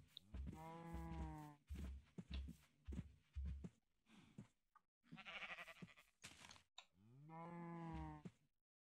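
Cows mooing in the video game Minecraft, several long lowing calls in a row with short gaps, loud and close, with no talking.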